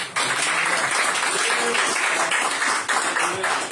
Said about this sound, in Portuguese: as palmas louvam o nome do Senhor Jesus.